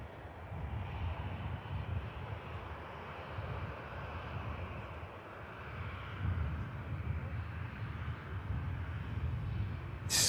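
A KLM jet's engines spool up for departure at Manchester Airport, a fairly faint, continuous low rumble and roar with slight swells that sits steady throughout, with no clear talk.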